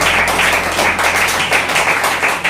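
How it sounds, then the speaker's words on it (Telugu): A congregation claps their hands together during a Sunday church service: a dense, steady wash of many overlapping claps that holds evenly throughout, with no break and no voices standing out above it. "ఒక్కసారి చేతులు ఉన్నవారు మాత్రం చప్పట్లు కొట్టి ప్రభు నామాన్ని"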